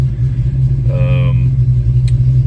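A Ford Mustang Foxbody with a surging idle and hard warm starts sits idling just after starting, making a loud, steady low engine rumble, with a brief voice over it.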